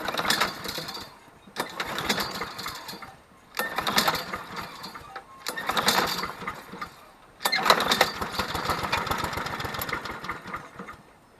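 Honda Harmony lawn mower being pull-started on choke, with repeated bursts of engine noise as the cord is yanked, each cranking attempt sputtering briefly and dying away before the next pull, fairly close and loud.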